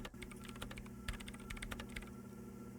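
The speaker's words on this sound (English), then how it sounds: "her hands typing hundreds of commands into the machine." Rapid typing on a computer keyboard in the Disco Elysium video game, a quick run of clicking keystrokes over a low steady electronic hum.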